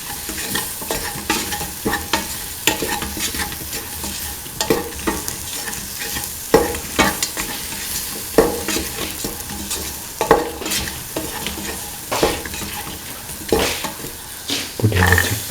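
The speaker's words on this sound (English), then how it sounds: "Thoroughly mix in the salt and the mixture spices with the rest of the mixture." A spoon stirs an okra and chickpea stew mixture with salt and spices in a sizzling pan, producing repeated scraping and clattering strokes over a continuous frying sizzle, close and fairly loud.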